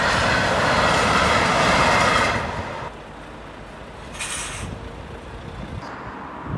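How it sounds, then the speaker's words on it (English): Train passing on a railway line at a level crossing near Llanelli: a loud rumbling rush for the first two seconds that cuts off abruptly, leaving quieter outdoor background with a few faint clanks. "Every time I do this route, I get stopped by the train."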